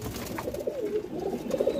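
A pair of white pigeons coo softly in low, rolling calls, close by but fairly faint against light background noise.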